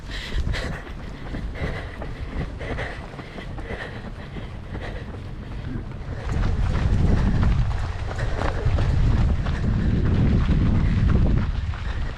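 Steady wind buffets the microphone during an ultramarathon trail run on the 175 km Grand Raid Ultra Marin course, a continuous rushing roar that grows heavier and deeper in the second half.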